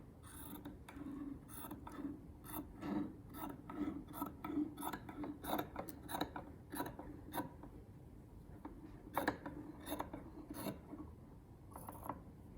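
Scissors trim the seam allowance of a garment's flat felled seam, giving a steady run of crisp, rasping cuts and snips, close and fairly quiet, with no talk.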